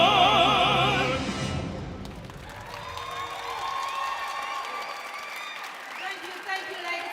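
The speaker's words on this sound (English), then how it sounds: "Let's give them a hand of applause once more" Audience applause for the Black Node Ensemble at the official opening of a Language Awareness Week event, starting loud and dense, then thinning into scattered clapping that keeps going under a few cheers.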